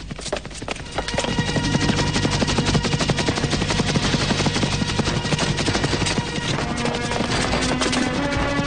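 Dense, rapid machine gun fire in an animated cartoon scene, a loud continuous rattling burst that runs almost unbroken from start to finish with only a short lead-in.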